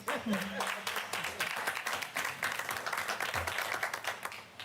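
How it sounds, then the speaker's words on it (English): Round of applause at a board meeting, a steady wash of clapping from the room lasting several seconds, with a voice talking over the start. "Can we give a round of applause for that?"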